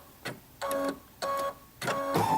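A home embroidery machine stitches out the final colour of a design, blue dots, in short repeated bursts of mechanical whirring separated by brief pauses, close by with no talking.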